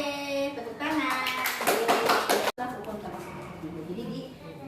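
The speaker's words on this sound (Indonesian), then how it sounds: "Oke, tepuk tangan." A classroom of children claps briefly in the middle, a short burst of hand clapping mixed with young voices and chatter before it cuts off abruptly.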